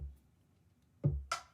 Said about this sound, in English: I just used a kick and a rim shot from Splice